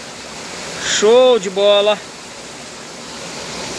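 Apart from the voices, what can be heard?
waterfall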